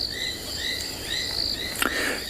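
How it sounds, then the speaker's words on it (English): Southern foam-nest frogs and sand frogs calling at night after heavy rain on an African safari, a dense continuous chorus of high pulsed chirps and trills from many animals, steady and moderately near with no talk. "we can hear both southern foam-nest frogs and sand frogs calling."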